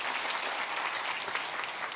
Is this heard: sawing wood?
no